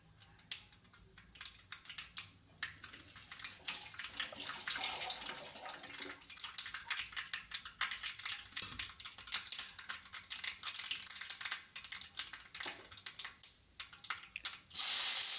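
Mustard seeds spluttering and popping in hot oil for a prawn roast, a faint, steady crackle of sharp little pops with a sizzling hiss beneath, alone without talk.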